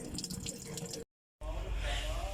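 Hot water runs from a tap while an instant gas geyser is tested after a broken hot water pipe was repaired at home, a steady close rush of water broken by a short silent gap.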